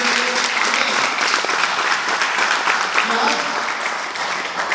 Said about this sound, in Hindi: तो पहले मैं चाहूंगा एक बार जोरदार तालियां हमारी कंपनी के लिए